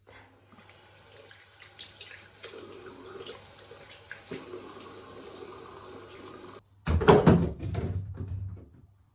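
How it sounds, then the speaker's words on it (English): Water runs from a bathroom tap into a sink as a face is wetted, a loud splashing burst late in the clip after a long quiet room-tone stretch. "I'm first going to wet my face."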